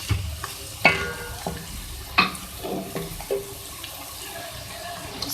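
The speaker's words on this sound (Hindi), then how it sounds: "इसके साथ इसको फ्राई करेंगे, मिक्स करें।" Ginger garlic paste fries with onions and a bay leaf in a pan, a steady low sizzle broken by several clattering stirs of a spoon against the pot, close and without speech.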